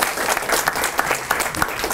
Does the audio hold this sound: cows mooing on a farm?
no